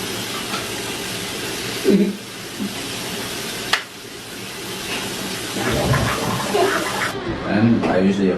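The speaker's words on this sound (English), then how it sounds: "Splash water on my back." Water splashes and runs during washing in a bathroom, a steady rushing stream broken by sharp splashes and clatters, with someone talking over it near the end.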